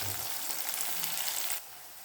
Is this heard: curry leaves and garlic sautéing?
yes